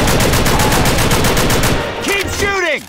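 Rapid automatic gunfire in the zombie shooter Left 4 Dead 2, a loud continuous stream of close shots, ending with a few whooshing, ringing effects as the firing stops.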